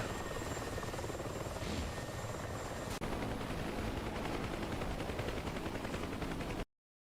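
An Mi-24 attack helicopter in a video game's PvP battle drones with a steady rotor thump, joined by a sharp burst of gunfire midway, loud and close with no talking.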